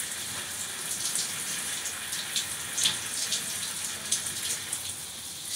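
Shower water runs steadily while soap is rinsed off, a continuous hiss of spray with small splashes and drips scattered through it, close and fairly loud, with no talking.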